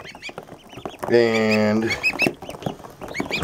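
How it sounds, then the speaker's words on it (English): Toulouse geese and goslings calling on a farm with ducks nearby, a loud harmonic honk lasting under a second amid repeated short chirping peeps, with a brief spoken word. "there's some more Toulouse geese in here too"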